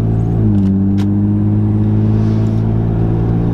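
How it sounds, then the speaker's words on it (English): Continuous road traffic streaming past, a steady engine rumble and tire roar that never lets up, with one vehicle's tone shifting as it goes by. "There is literally continuous traffic."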